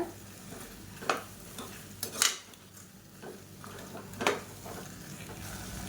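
Vegetables sautéing in oil for South Indian brinji rice, stirred in the pan with a few sharp scraping clinks of a spoon against the vessel over a soft, steady sizzle, close and without talk.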